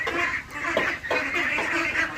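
Several ducks quack in a repeated, overlapping series at moderate distance, a steady chorus of short nasal calls with no speech.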